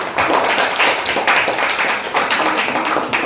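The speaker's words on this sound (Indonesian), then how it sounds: "Tepuk tangan untuk kelompok." A class group claps together in quick, uneven bursts of applause, fairly close and steady for a few seconds.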